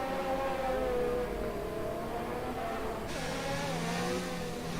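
F1 race cars in the F1 2019 video game at the Belgian Grand Prix, one slipstreaming and gliding past another, engines whining in steady rising and falling tones, close and continuous.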